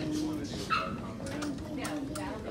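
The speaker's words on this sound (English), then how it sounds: "Look at this big puppy." Puppies in a shop whimper and yip, a few thin high whines and short yelps close by, mixed under people talking.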